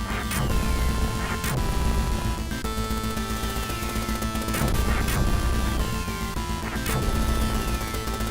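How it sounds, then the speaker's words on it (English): Grenade explosions in the Ikari Warriors arcade-style shooter, several loud bursts of crashing noise landing about every two seconds over a constant layer of chiptune music and effects. "I like how big the explosions can be of the grenades"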